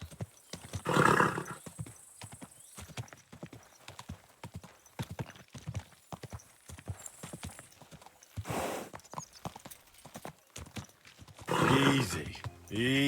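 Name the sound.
horse riding hooves, from video game Kingdom Come Deliverance 2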